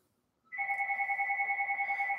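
An electronic telephone ring starts after a half-second pause and holds steady to the end, with a fast warbling pulse and two clear tones. It is fairly loud and close, with no voices over it.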